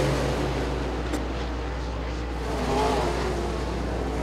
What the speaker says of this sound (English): Colin Thurlby getting away from the field as the second place battle continues, going into turn three and four between the 87 and David Milkey